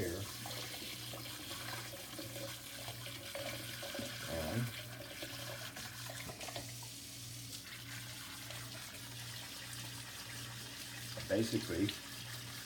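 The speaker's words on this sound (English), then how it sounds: "I take some hot water with my sprayer" Hot water sprays steadily from a kitchen sink sprayer into the basin, a continuous hissing rush throughout, with someone talking briefly over it.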